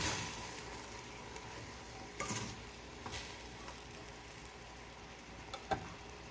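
Banana heart is stirred in a cooking pan, giving a faint, steady sizzle with a few soft scraping strokes of a spoon.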